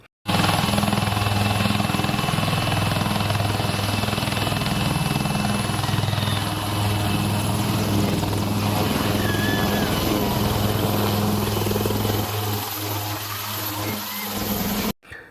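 A helicopter drones loud and steady throughout, with a constant rotor and engine roar during a flood rescue, airlifting stranded people to safety, easing slightly near the end.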